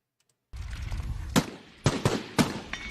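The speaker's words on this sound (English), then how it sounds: "We have a second one of Putin shooting a rifle there." Rifle shots fired by Vladimir Putin: four sharp, loud cracks in quick irregular succession over a background rumble, each with a brief echoing tail.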